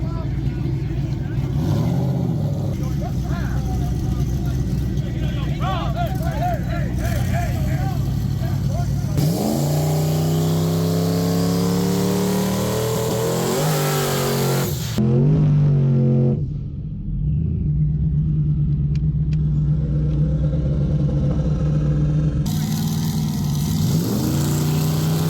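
Drag racing car with new turbos, a rumbling engine idle giving way to hard accelerating roars that rise in pitch, a brief loud burst, then a low engine drone, with people talking over much of it.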